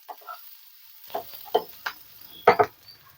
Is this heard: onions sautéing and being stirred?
yes